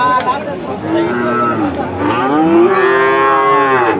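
Cattle at a rural livestock market in Chougachha, Jashore, Bangladesh, where Sahiwal bull calves are sold, moo in long, loud, drawn-out calls that overlap one another for the whole stretch against a busy market din.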